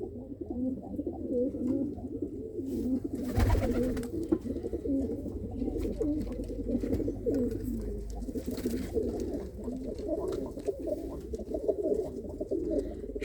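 Pigeons coo steadily in a loft, their low, rolling calls overlapping continuously at close range with no talk over them.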